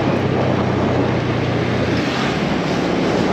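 A car driving through the Bantar Gebang garbage mountain, a steady broadband rumble of engine, tyres and wind noise on the microphone, constant and close, with no talking.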